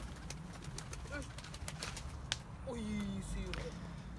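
Pigeons coo softly in the near distance amid outdoor background noise, with a brief sharp knock in the middle and people talking faintly.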